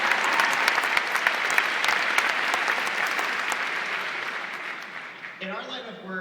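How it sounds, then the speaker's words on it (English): Loud, sustained applause from a school event audience at Palo Alto High School, dense clapping that gradually thins and fades before a voice begins speaking. "It's okay to clap"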